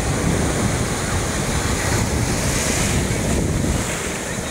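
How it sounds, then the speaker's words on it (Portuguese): Ocean surf at Praia dos Ingleses in Florianópolis, a steady, full roar of breaking waves mixed with wind rumbling on the microphone, continuous and close throughout with no voices. "olha o Mar dos Ingleses aí"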